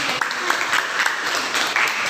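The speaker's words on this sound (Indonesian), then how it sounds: "Boleh tepuk tangan." Classroom applause, a short burst of steady clapping from a group of students, fairly close and even in rhythm.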